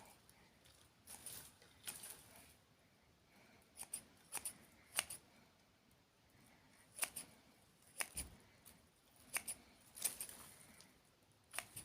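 Scissors trim a houseplant during repotting, making sharp, close snips scattered irregularly over a quiet room, with faint rustling of leaves between cuts.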